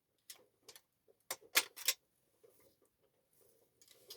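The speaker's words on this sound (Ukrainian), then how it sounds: "Відокремити кришку ствольної коробки." Receiver cover coming off a Kalashnikov assault rifle, heard as scattered soft close clicks building to a quick cluster of three sharp metallic clacks, then a few faint taps.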